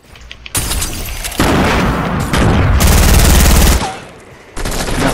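Gunfire in the Fortnite video game: loud, dense bursts of rapid shots roll on for several seconds, briefly thin out, then resume at full force.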